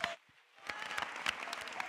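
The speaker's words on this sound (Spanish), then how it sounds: "Un aplauso para Zoraida, por favor." Brief applause for a participant at a tech event, starting after a short quiet gap, with scattered claps over a crowd's murmur at moderate distance.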